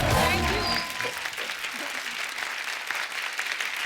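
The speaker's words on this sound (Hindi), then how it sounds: "दीपिका के लिए एक बार जोरदार तालियां।" Studio audience at a comedy show applauding loudly for Deepika, a steady wash of clapping that opens with a brief voice and then carries on evenly.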